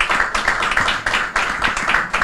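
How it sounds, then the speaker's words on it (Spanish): Applause for Francis in a restaurant setting: a few people clapping in quick, uneven bursts, close and fairly loud, with no voices over it. "un aplauso para Francis"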